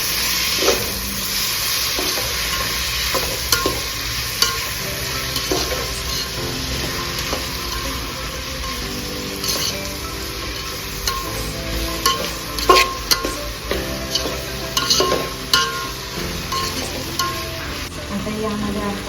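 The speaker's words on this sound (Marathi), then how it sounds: "टमॅटो टाकणार आणि टमॅटो चांगला मऊ होईपर्यंत परतून घ्यायचा." Tomatoes frying and being stirred in a pan for pav bhaji, a continuous sizzle broken by frequent scraping and clinking of a spoon against the pan in irregular bursts.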